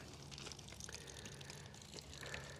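Water drains from an opened valve of a sprinkler system as it is winterized, a faint, steady trickle and gush with no talking.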